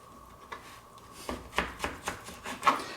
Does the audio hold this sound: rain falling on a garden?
no